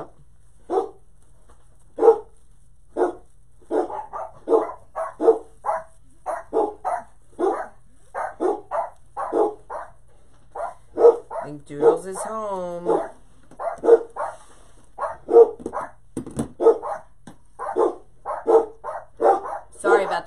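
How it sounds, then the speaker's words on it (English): Several dogs bark and yip in an excited greeting as someone comes home, the barks repeating in quick bursts throughout, with a short high whimper in the middle and people talking over the noise. "Sorry about the barking, but this is how they greet"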